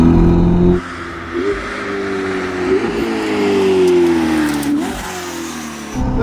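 A Ferrari SF90 Spider's twin-turbo engine revs and rises in pitch, with a whooshing turbo spooling whine over a steady rumble, close and loud throughout.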